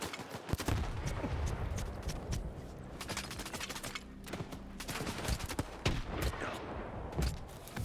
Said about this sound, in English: the grenade launcher definitely puts in work